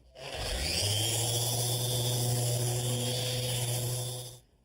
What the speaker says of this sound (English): for the final pass, I'm going to use a 60 micron sandpaper